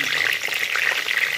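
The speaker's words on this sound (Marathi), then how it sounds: "आणि त्यानंतर आपलं छानपैकी तेलामध्ये फ्राय करून घ्यायचं आहे." Thick ginger garlic paste fries in hot oil with curry leaves in a kadai, giving a steady, dense, loud sizzle with crackling bursts throughout and no talking.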